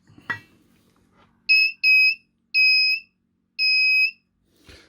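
A kit-built metal detector with variable sensitivity gives four loud, steady electronic beeps, short at first then longer, with clear gaps between them and faint handling clicks before and after.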